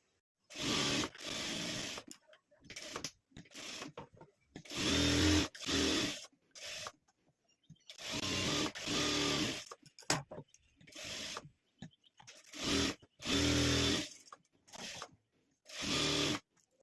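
A sewing machine stitches lines across blouse fabric for a small tiffin bag, running in short repeated bursts of rapid mechanical whirring with brief pauses between them, close and fairly loud.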